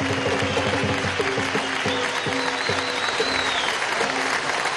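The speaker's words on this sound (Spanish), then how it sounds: "Para él pido todo el cariño, el aplauso a su esposa." Crowd applause at a political congress session on ecosocialism in Venezuela, steady clapping heard beneath a voice and the tonal hum of a PA system.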